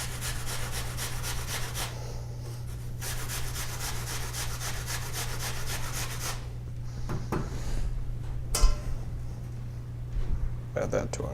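Fruit is grated for muffin mix in quick rhythmic rasping strokes, close and fairly quiet, in bursts with short pauses, ending with a couple of light knocks.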